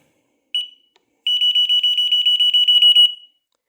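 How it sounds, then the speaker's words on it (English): A Lynx electric unicycle fitted with a swapped-in control board sounds its power-on alarm: one short beep, a brief pause, then a fast run of sharp, high, evenly spaced beeps lasting about two seconds, alone in silence. "I get an alarm and it no longer balances."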